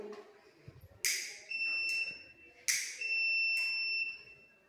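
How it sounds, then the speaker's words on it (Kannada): A forest fire alert system's buzzer sounds in four shrill electronic bursts, close and loud, two longer tones alternating with shorter ones after a quiet start. "ಅದರಿಂದ ನಾವು ಈ ಬಜರ್ನ ಫಿಕ್ಸ್ ಮಾಡಿದ್ದೇವೆ"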